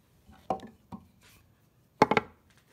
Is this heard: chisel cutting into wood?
yes